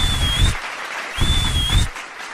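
Audience clapping breaks out after a singer's performance at a Chhattisgarhi Phag song competition for Holi, in two close bursts of applause, each swelling then fading.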